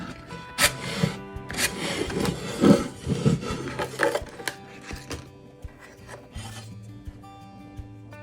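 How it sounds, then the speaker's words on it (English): Sandpaper rubs around the edges of a thrifted home decor piece to distress it, giving close, scratchy, irregular strokes that are fairly quiet and fade toward the end. "So just take a little bit of your sandpaper, just go around the edges here."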